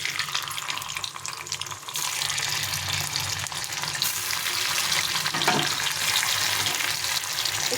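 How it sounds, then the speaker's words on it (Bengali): Banana flower pieces fry in hot oil, a steady loud sizzle that continues throughout with slight surges, no voices. "এখন এই তেলে বাকিটাও ভেজে নেব।"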